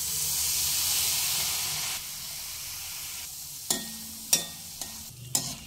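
Spicy boondi for chanachur deep-frying in hot oil: a steady broadband sizzle that thins out midway, then sharp clinks and scrapes of a slotted ladle at intervals, close and clear with no talking.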